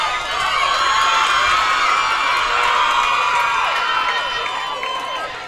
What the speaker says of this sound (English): North and West going at it to see who can be louder and cheer more.